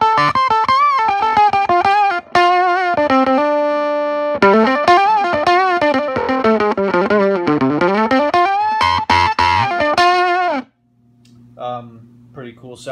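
Electric guitar played through an octave-up pedal on the neck pickup with the tone rolled down, giving a run of sustained, warbling effected notes and slides that ends in a sudden cutoff and a faint fading tail.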